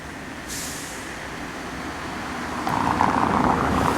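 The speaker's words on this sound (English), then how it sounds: "Can't hear the camera, but you can hear the traffic behind me." Road traffic at Walt Disney World Resort, a steady broadband rumble of passing cars and buses at moderate distance that swells louder in the second half, with a brief hiss near the start.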